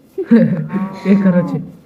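A Minecraft cow gives a short, close, two-part moo, loud and clear with a brief gap in the middle.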